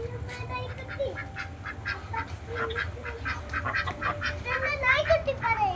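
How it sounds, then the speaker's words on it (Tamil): Several Manila ducks honk and quack in repeated bursts nearby, a busy overlapping chorus of waterfowl calls with no clear rhythm. "இது வாத்து பாரு"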